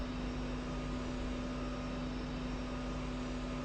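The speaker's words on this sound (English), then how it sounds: "Plane's probably not supposed to make these kinds of noises." A fixed-wing aircraft engine in the DCS flight simulator game produces a steady, droning hum with a constant tonal whine over broad rumble, unbroken and fairly loud, with no one talking.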